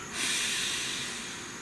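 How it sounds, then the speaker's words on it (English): One long, deep breath is drawn in close to the microphone, a breathy hiss that swells quickly and then slowly fades, with no other sound. "Please take a nice deep breath"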